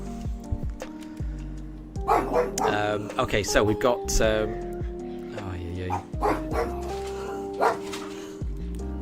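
Dogs barking and yipping in the background while someone talks over them, with game music playing, a few sharp barks scattered across the stretch.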